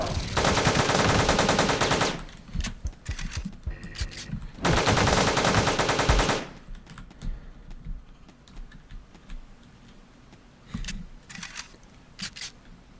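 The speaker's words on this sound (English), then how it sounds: "And we're sticking with the machine gun until we get" Sustained machine gun fire in the top-down shooter Teleglitch, two loud dense bursts of rapid rattling shots separated by a pause, followed by quieter scattered game noises and a few short sharp bursts near the end.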